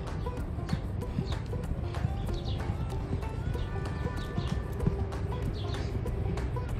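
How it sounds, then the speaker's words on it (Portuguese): Horse hooves clip-clop in a steady, uneven rhythm close by, with the footfalls sounding continuously under a busy outdoor background and a few faint bird calls. "Nem de graça ninguém gosta de um cavalo desse."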